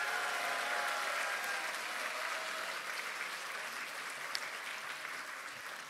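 Sustained applause from a large audience fills a Democratic Party of Korea 70th-anniversary ceremony, with dense, even clapping holding steady throughout and easing only slightly toward the end.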